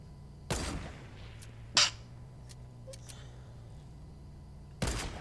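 Shotgun blasts in Fortnite, three sharp loud reports spaced apart with a quieter crack between, over a faint low background hum.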